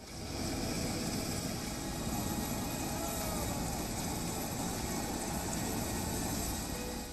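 Army rescue helicopters fly over houses swamped by monsoon floods, producing a continuous loud droning roar with a steady mechanical whine that holds throughout.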